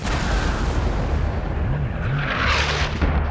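Naval cannon fire from the bow guns of a galley during a sea battle scene, a dense continuous roar of booming blasts and rumbling low end, loud throughout with no speech.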